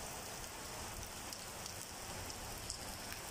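Steady rain falls on surfaces during an afternoon in Dubai, an even, close hiss of dense drops that continues without a break and with no voices.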